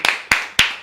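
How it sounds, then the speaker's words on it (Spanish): Four sharp hand claps in a quick uneven rhythm, close and loud, each a bright broadband burst, with no voices. "Aplaude."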